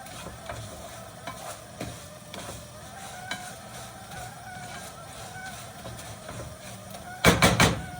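Fideo noodles sizzle and crackle as they fry in a pan, with occasional scraping stirs, ending in a few louder clattering knocks.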